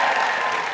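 Live theatre audience at a comedy podcast recording in Wales, cheering and applauding in a loud, dense, continuous burst with no speech over it.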